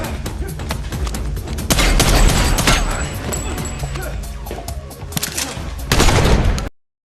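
Gunfire in a John Wick film fight scene, with dense bursts of shots, crashes and thuds layered over music and effects, loudest in two surges before cutting off abruptly.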